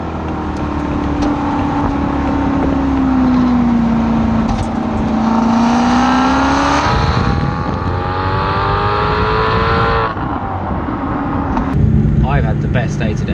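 A Maserati GranTurismo V8 revs up in a brief spurt of acceleration on a motorway drive, heard from inside the car with a rising then falling tone as the driver talks over it.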